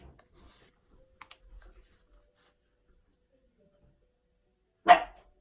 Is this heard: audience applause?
no